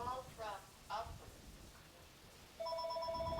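A telephone rings in a room during a hand-stitching quilting lesson, a steady electronic ring tone starting late and holding to the end, with brief speech just before it.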